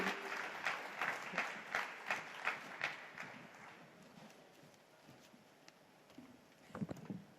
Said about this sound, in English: a big round of applause for Gautam Gambhir